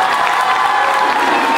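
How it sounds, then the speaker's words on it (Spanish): A crowd at a public swearing-in ceremony in Tecámac applauds and cheers loudly in one brief, continuous burst. "Fuerte el aplauso."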